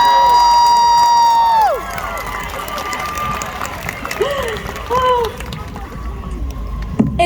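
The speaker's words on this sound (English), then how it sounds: "we have to give one more round of applause for little Miss" Crowd at a concert in Nashville cheering and clapping after a long sustained whistle-like tone, with scattered shouts and whoops rising over a broad, busy roar.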